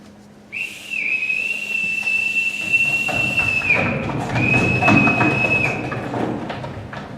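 A loud, sustained single-pitched whistle blast sounds close by, cutting off briefly before a second long blast, with rustling and movement noise underneath in a house setting.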